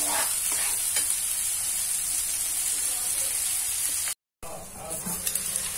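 Chopped onions fry in oil in a pan over a gas stove for masala chole, giving a steady broad sizzle with stirring scrapes that runs through the clip, cut by a brief dropout near the end.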